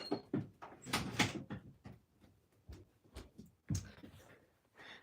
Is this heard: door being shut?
yes